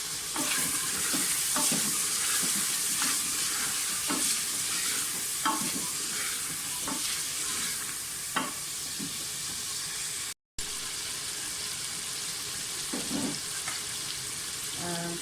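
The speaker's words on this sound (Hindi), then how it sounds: "इसके साथ ही कम से कम 1 मिनट जो है भुनाई करें गोश्त की।" Steady frying sizzle of mutton with garlic ginger paste, spoon stirring and scraping against a pan, loud and close, with a brief dropout partway through.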